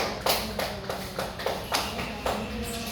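Classroom pupils clapping for a group during a primary school maths lesson, heard as a handful of sharp, separate claps spaced about half a second apart, fairly near and steady, with room noise beneath.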